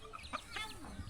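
Chickens cluck in a mountain village: a few short, faint clucks spread over about a second, with quiet rural background.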